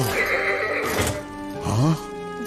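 A cartoon horse in a Hindi cartoon lets out a sharp whinny that rises and falls near the end, amid other brief cartoon sounds.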